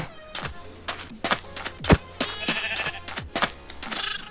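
Several Minecraft sheep bleat one after another, overlapping short wavering cries with soft thuds between them, close and fairly loud.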